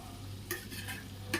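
Spoon stirring ground paste into a hot tempering of mustard seeds and cumin in a pan, faint scraping strokes over a soft sizzle and a steady low hum, with two brief sharper scrapes.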